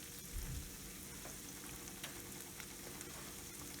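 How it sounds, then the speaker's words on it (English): Leftover pasta noodles frying in an electric pan turned up high, a faint, even crackling sizzle with scattered small pops, steady and alone for the whole stretch. "You just know by listening to the pan when the noodles are cooking too fiercely"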